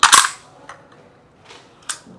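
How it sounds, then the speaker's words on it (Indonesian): A gas-powered airsoft GBBR rifle fires a sharp, loud shot right at the start, followed by quieter mechanical clicks of cocking and a second snap near the end. "kita harus sekali kokang, sekali tembak. Kayak model spring, tapi ini pakai gas."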